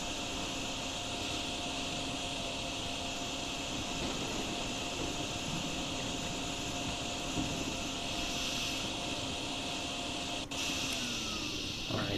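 A steady, droning whoosh runs continuously at low level, a vacuum cleaner humming in the video game DrainSim, with a brief click near the end.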